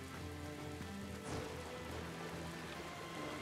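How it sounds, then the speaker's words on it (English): Steady rain falls in the video game Hyrule Warriors: Age of Calamity, a dense, even hiss of drops spattering on surfaces that continues throughout without talk. "I love rain, I just want to say, so this rain around here is just the best."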